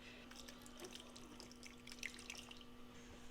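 Curds and whey for homemade ricotta are poured into a colander lined with cheesecloth, giving a faint, steady trickle with soft drips of liquid that stays quiet throughout.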